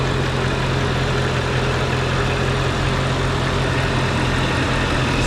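A 2007 Mercedes-Benz SL55 AMG with the M113 engine idles just after starting, giving a steady, even low rumble with a constant hum and no breaks.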